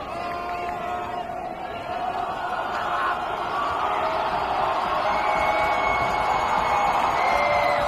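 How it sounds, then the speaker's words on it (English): A high school football crowd at Corner Canyon roars in a sustained, swelling wall of cheers, yells and whoops that grows louder over several seconds, with voices blending into a dense, distant-sounding mass. "And the Corner Canyon crowd gets loud."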